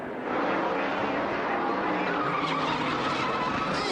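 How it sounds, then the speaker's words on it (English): A NASCAR Winston Cup race car skids with its rear brakes locked, a loud, sustained broadband tire scrub and skid that starts abruptly and holds steady to the end, with faint squeal tones riding over it. "he locked up those rear brakes"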